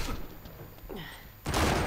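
Gunfire in a shooter video game, a rough crackle of shots that breaks into a loud, dense burst of fire near the end.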